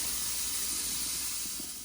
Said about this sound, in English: After I'm done rinsing this, I'm just going to go ahead and rinse the pre-filter as well